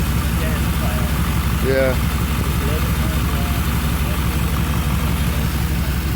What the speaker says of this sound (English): But you tell it's got the idle's rough.